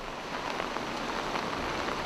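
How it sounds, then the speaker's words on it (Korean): Steady rain falling on a gloomy seaside in Nagoya, a continuous close hiss of drops on surfaces with no talking. "음산하게 비가 내리는 이곳에 30년 넘게 방치되어 아무도 찾지 않는다는 건물이 있었다"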